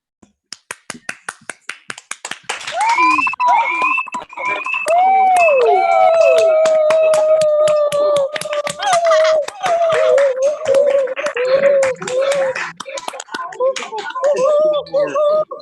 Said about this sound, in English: Yep, round of applause.